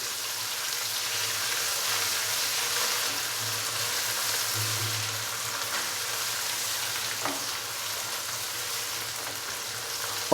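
Ginger garlic paste sizzles steadily in a pan for chicken pulao, a continuous close frying hiss with a low hum beneath and no talking.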